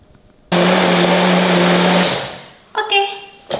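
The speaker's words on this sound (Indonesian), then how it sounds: "Sekarang kita memblender bumbu buat goreng tempe." A kitchen blender whirs loud and steady for about a second and a half, grinding tomato, shallot, garlic and chili into a spice paste for frying tempeh, then winds down, followed by a brief clatter.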